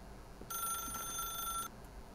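A telephone rings once in The Stanley Parable, a bright electronic trill lasting just over a second against a quiet room hum.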